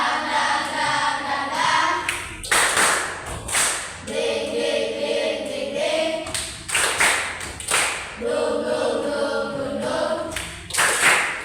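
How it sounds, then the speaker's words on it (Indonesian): A school class doing the Indonesian 'tepuk semangat' clapping chant: sharp bursts of group clapping in a brisk pattern, alternating with children's voices chanting in unison, loud and close in a classroom. "Oke, tepuk semangat."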